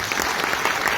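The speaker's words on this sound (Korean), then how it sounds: "다시 한번 따뜻한 박수 부탁드립니다." An audience at an education policy forum in a hotel applauds warmly, a dense, even patter of many hands clapping at close range.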